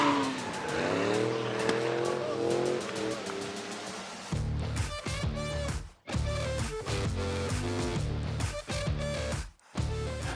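A car drifts at the Killarney Motor Show, engine revving hard and tires squealing in long skids, the revs rising and cutting repeatedly as the car slides, loud and close.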